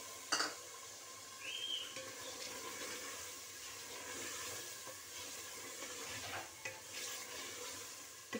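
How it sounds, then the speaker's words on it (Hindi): Chicken frying in a pan with tomatoes, a steady soft sizzle with occasional stirring scrapes and clinks throughout, fairly quiet and without talk. "चिकन भून लेती हूँ, साथ साथ मैं सब्जियाँ जो हैं वो भी ऐड करती जाऊँगी।"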